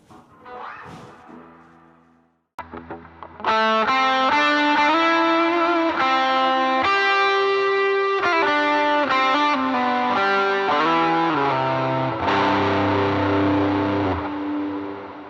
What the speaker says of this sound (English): it's actually very similar to a Rat pedal, which is just a very heavy distortion